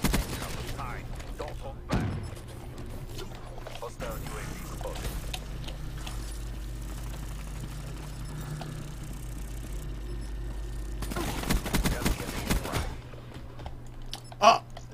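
Bursts of gunfire in Black Ops 3 come through at a moderate level, with a longer volley near the end and game noise running underneath.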